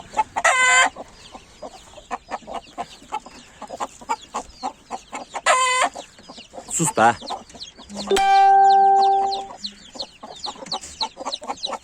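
Hens and chicks cluck in a backyard coop while a silver rooster lets out repeated loud, harsh calls, near and sharp, with one longer drawn-out cry and a few brief words spoken.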